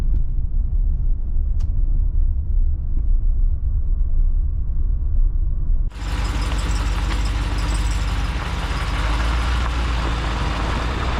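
A RAM 2500 pickup truck rolls at about 25 km/h as four-wheel drive high engages. A steady low engine and drivetrain rumble runs throughout, then turns suddenly louder and broader, with added road and tyre noise, partway through.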